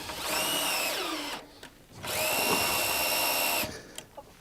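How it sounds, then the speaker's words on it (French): A power drill drives self-drilling screws into wooden deck boards, about 2 cm from the board edge, in two loud sustained bursts with a short pause between, and no talking. "et je fixe avec des vis autoforantes"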